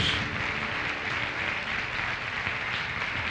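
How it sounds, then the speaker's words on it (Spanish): A church congregation applauds together in sustained, dense clapping that holds steady for several seconds, with no clear speech over it. "Dale un fuerte aplauso a nuestro Dios."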